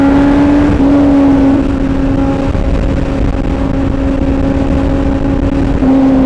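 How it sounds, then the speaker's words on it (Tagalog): A Kawasaki Z900 inline-four motorcycle engine runs steadily at cruising speed on an expressway, a loud, continuous, close droning hum with a smooth pitch that briefly dips and rises, wind noise rushing underneath throughout. "Kakaiba yung inline 4 sa expressway. Yung tunog, ang sarap sa tenga."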